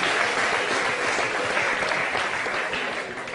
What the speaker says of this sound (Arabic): هيا سيدي تصفيق على المشاريع.